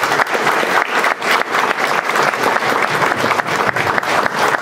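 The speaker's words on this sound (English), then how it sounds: "let's give a round of applause to Charlie" A room of attendees claps after a talk on air quality, a loud, full round of applause with steady rhythmic patter throughout, close and sustained.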